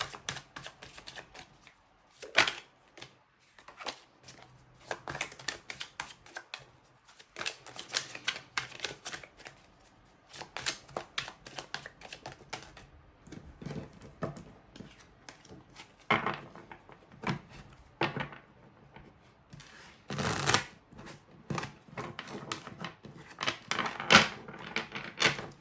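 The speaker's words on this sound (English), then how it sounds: "I'm going to shuffle them really well so that you can get started with your reading" Tarot cards are shuffled by hand in quick, irregular bursts of riffling and tapping, close and fairly quiet, with short pauses between rounds.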